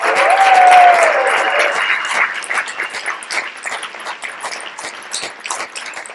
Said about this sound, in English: give Scott and Marguerite a huge round of applause